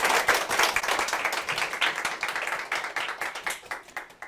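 An audience claps to welcome the guest author, Yoo Hyo-sang, before his lecture on unicorn startups, a steady burst of many hands across the whole stretch, fairly close and loud, with no talk over it.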